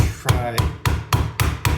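A hammer knocking an SKS rifle rear sight base back into place: six sharp metallic strikes at a steady, fairly quick rhythm, close and loud, with brief ringing after each blow.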